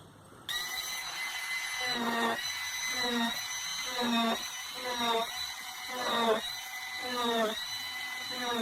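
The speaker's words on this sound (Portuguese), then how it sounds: "fazer furos finos nessas marcações feitas para poder fazer a parte de fixação do disco no corpo do instrumento" Small drill boring fine holes into the body of a Gangirá percussion instrument, a steady whine starting abruptly and rising and falling in short repeated bursts, close and fairly loud, with a voice speaking faintly underneath.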